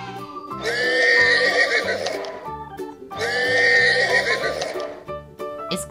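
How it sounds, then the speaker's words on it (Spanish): A horse neighs twice, long whinnies a few seconds apart, loud and close, with bright music playing underneath. "Es el caballo."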